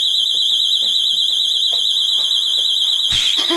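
A child-left-behind prevention alarm inside a bus or car sounds a loud, continuous high-pitched electronic tone, with faint thumps and movement beneath it and a brief clatter near the end.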